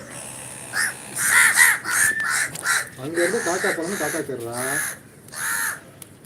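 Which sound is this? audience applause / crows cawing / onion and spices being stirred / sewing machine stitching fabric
crows cawing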